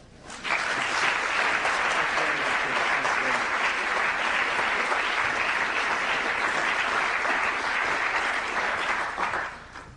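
A lecture-hall audience at the Kennedy School's Institute of Politics applauds to welcome Connecticut Governor Lowell Weicker, a dense, steady clapping that rises quickly, holds for about nine seconds, then fades.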